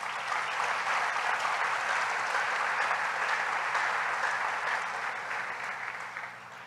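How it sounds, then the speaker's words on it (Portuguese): A church congregation applauds in a dense, steady wash of clapping, loud and sustained throughout before easing slightly toward the end, with no voices above it. "Aplauda mais uma vez."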